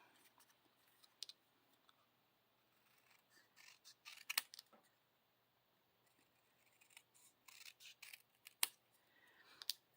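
Scissors snip through patterned designer series paper in scattered, crisp cuts and soft clicks, quiet and close, with gaps of near silence between bursts.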